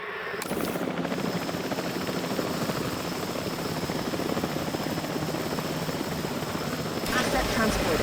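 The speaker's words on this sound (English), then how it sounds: "Sending the drone out." Transport drone flying in the video game Jurassic World Evolution 3, a steady loud rotor-like whirring drone that continues for the whole clip.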